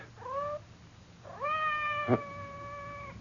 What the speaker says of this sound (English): It sounded like Madame's cat, Francois.